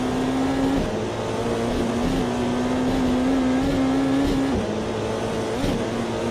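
Race car engine in the sim racing game Automobilista 2, a loud sustained drone holding a steady pitch with brief dips at gear changes, continuous and close.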